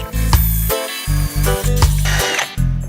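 A power drill whirs loudly in several short bursts while drilling a 5/16-inch hole, stopping and starting with brief pauses between runs, close by.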